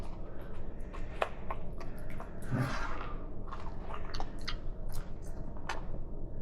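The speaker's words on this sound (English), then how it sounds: "Is this good? Is this tasting good, Missy?" A pet chewing food up close, a steady run of soft wet chewing and squishy bites with occasional small clicks, moderately quiet and continuous, no talking.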